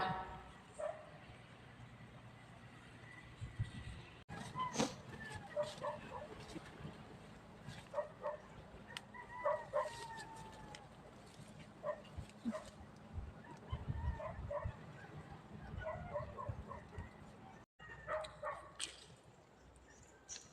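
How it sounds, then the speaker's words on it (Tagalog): A neighbor's dog barks repeatedly in the distance, the barks scattered through a quiet countryside scene in the Philippines with faint background noise. "Maingay yung aso nila dyan sa may kabila."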